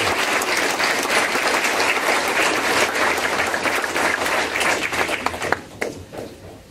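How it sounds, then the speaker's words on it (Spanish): Sustained applause from a large church congregation during Sunday Mass, dense and steady clapping that tapers off toward the end. "¿por qué no le dan un aplauso al padre Matthew?"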